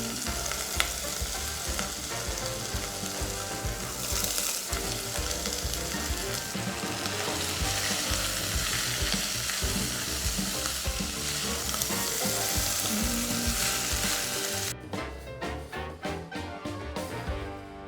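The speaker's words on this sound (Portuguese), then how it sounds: "Já tem azeite aqui na panela, calabresa picada e a gente vai dar uma fritadinha nela." Chopped calabresa sausage frying in olive oil in a pan, a steady loud sizzle and crackle filling the whole stretch, with occasional stirring; near the end the sizzle thins into sharper, sparser pops.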